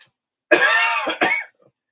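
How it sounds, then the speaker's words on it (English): A person clears their throat harshly and then gives a short cough, close and loud, with silence before and after. "I'm coughing now."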